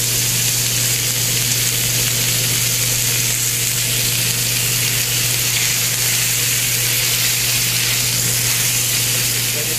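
Monkfish and bacon fry in a hot pan, giving a loud, steady sizzle and hiss that barely changes and has no voices over it.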